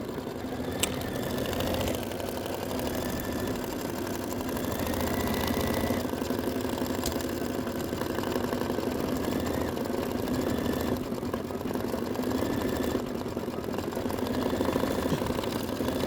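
A sewing machine steadily stitches through a mylar and tulle sandwich on a Kimberbell Wallflower quilt block, a continuous mid-pitched motor hum with fine rhythmic needle chatter running unbroken throughout.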